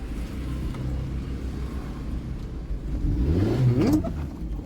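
A car's engine hums steadily while making a U-turn on a road during a driving lesson, its revs rising in a brief surge toward the end before easing off.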